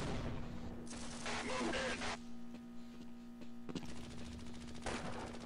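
Enemy gunfire in the Half-Life: Blue Shift video game, with two loud sustained automatic bursts separated by a quieter lull with a steady low hum.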